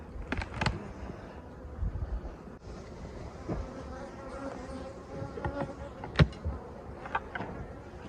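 Honeybees buzz continuously close by during a winter hive inspection, a dense droning hum with occasional louder passes, no talking.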